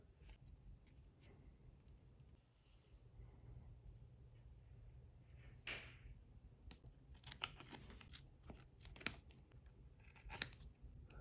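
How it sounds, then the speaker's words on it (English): Scissors cutting leather for the seat of a pink Rolls Royce FAB 1 model: a quiet close snip, then a cluster of several crisp snips in the second half over faint room hum. "now I'm going to cut out another piece of leather to wrap around the side of the seat"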